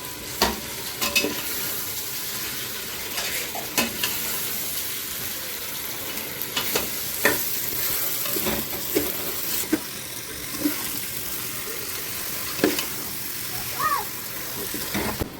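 Onions and tomatoes frying for beef biryani: a continuous loud sizzle with stirring scrapes and occasional sharp knocks of the spoon on the pan, while a voice talks now and then over it.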